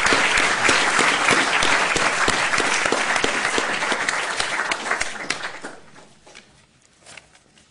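Applause from a conference audience at an opening plenary: dense, loud clapping that holds steady for several seconds, then thins out and fades to a few scattered claps.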